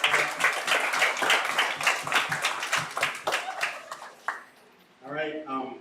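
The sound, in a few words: applause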